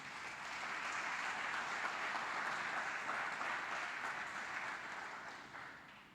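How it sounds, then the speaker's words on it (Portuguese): A church congregation applauding, sustained dense clapping that holds steady and fades slightly at the close. "Você pode dar um aplauso ao Senhor por isso?"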